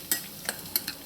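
Baigan choka being mixed with hot oil in a bowl: four quick scraping stir strokes at an uneven rhythm over a soft faint sizzle, close and fairly quiet, with no voices.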